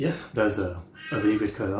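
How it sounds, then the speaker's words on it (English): A house cat meows in the background of a music reaction stream, with a couple of insistent cries partly masked by someone talking over them. "sorry about the cat once again, it's not stopping."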